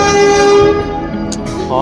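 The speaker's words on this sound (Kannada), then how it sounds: "ಹಾರ್ನ್ ನೋಡ್ರಿ ಮಸ್ತ್ ಐತೆ" A Rajdhani Express EMD diesel locomotive horn blares loudly and steadily for under a second, then fades into rumbling train noise with a brief voice near the end.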